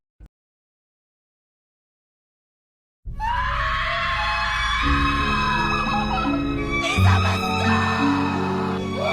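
After a short silence, a loud, sustained scream erupts and holds for several seconds, shifting pitch and layering into a harsh, strained shriek, alone without talk.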